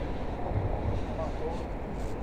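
Steady wind gusting and rumbling across the microphone on a cold night in Midtown Manhattan, New York City, a continuous blustery roar with no clear voices.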